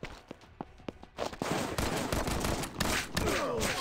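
Shotgun blasts in a fast-moving video game ring out as sharp bursts, a few spaced shots first, then a dense, louder flurry of rapid fire and impacts.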